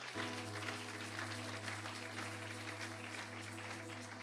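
Steady applause from a church congregation during the offering, dense and sustained throughout, with a low organ or keyboard drone held underneath.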